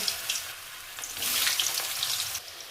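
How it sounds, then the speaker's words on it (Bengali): Cut potatoes frying in hot oil with cardamom, cinnamon and bay leaves, a steady close sizzle that swells in the middle and carries on without speech. "কেটে রাখা আলুগুলো তেলের মধ্যে ভেজে নেব"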